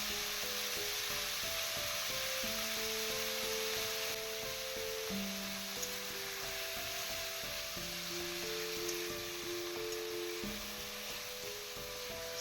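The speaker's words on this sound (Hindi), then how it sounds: "लो फ्लेम पे ही इसको थोड़ा टाइम फ्राई करना है" Chicken dry frying in a pan on a low flame in an Assamese village-style dish, a steady soft sizzle running throughout beneath gentle background music.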